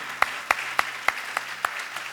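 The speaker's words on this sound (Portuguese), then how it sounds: "Queria que você aplaudisse ao Senhor pela vida dele." A church congregation claps for its cell group leaders in a steady, even rhythm, about seven distinct claps over two seconds, moderately loud, with no voices.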